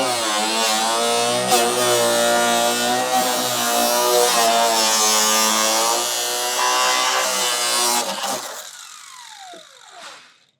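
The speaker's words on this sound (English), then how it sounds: "So I'm just going to cut it versus taking the whole thing all the way out. My trusty cut-off wheel." A cut-off wheel slices through the plastic of a second-generation Toyota Tacoma rear bumper, giving a loud, steady high-pitched motor whine for about eight seconds before it winds down and stops.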